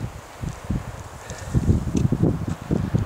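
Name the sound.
wind on a mountain trail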